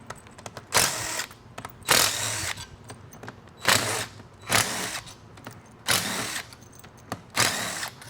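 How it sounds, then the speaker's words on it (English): A small power tool gun runs in several short bursts during an automatic transmission rebuild, each whirring burst separated by brief pauses and quieter shop handling noises. "This little gun has quite a bit of torque."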